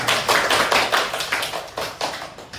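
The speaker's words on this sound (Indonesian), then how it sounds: "Tepuk tangan kita semua." Group hand clapping from an audience at a university seminar on self-love and self-care, sharp claps landing in a quick, fairly regular rhythm, close and moderately loud with no speech over them.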